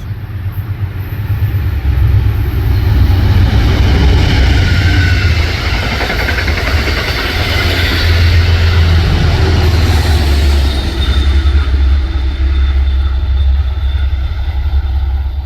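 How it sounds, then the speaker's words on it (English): An Amtrak Empire Service train hauled by a P32 AC-DM locomotive rolls past at Riverdale, a loud, steady low rumble of engine and wheels that holds throughout, with faint higher rail squeal partway through. "This is the state-sponsored AMTRAK Empire service."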